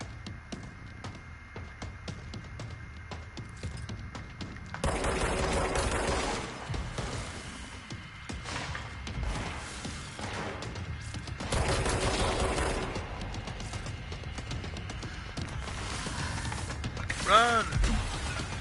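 Gunfire in the video game Control, rapid bursts of shots and mechanical clatter in sustained volleys with crashes and a swelling, warbling effect near the end.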